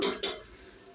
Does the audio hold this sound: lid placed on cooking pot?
yes